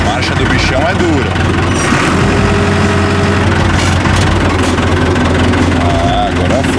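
A tractor engine idles and warms up after starting, a steady loud low rumble with mechanical rattle running throughout, while someone talks over it.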